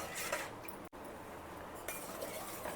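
A spoon stirs custard powder mixture into milk in a pot for caramel bread pudding, with soft metallic clinks and scraping, quiet and close, with no talk.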